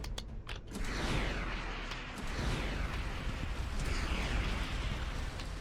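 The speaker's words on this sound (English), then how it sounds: "Hello, rockets flying at me." Rockets fly and burst in space combat in Starcom: Unknown Space, a dense, continuous rumbling roar with crackling explosions layered through it, a few sharper pops near the start, and no voices.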